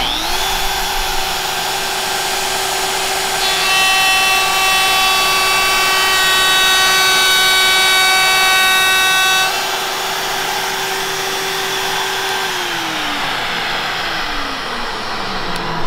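A Festool OF 1010 plunge router trims edging on plywood, its motor whining loudly and steadily with a higher cutting tone partway through before it spins down.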